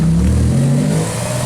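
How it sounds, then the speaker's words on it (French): Porsche Carrera GT accelerating past at a Cars & Coffee meet in Luxembourg, a loud close engine note that rises and then falls in pitch as the car goes by. "Il y a la Carrera GT juste derrière qui va arriver."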